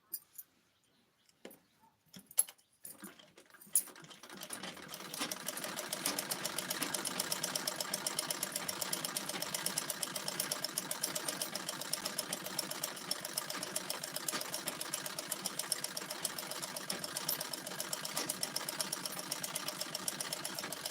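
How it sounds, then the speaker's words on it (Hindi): A sewing machine runs steadily and continuously at a moderate level for a long stretch, after a few scattered clicks and knocks as it starts up. "सिलाई कर रही हो दीदी? हाँ भैया सिलाई करत है।"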